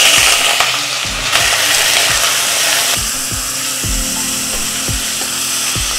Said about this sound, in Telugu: ఈ చికెన్ కలర్ మారే వరకు వేయించుకోవాలి.